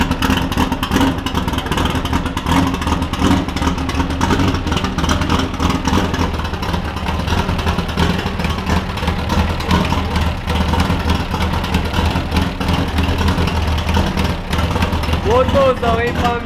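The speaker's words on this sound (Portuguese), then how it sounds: "Olha a lenta desse carro!" A turbocharged Chevrolet Opala engine idles with a steady, rough, loud rumble, close by, while someone talks over it.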